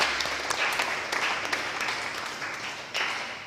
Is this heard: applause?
yes